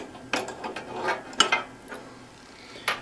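Metal shipping bar bolts are pushed up and pulled free from a Whip Mix Pro 200 Series dental furnace, giving a few scattered mechanical clicks and scrapes close by with no talk.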